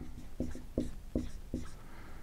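Marker or chalk strokes on a board during an economics lecture, four short scratchy bursts evenly spaced in a quiet room, close and clear with no talking.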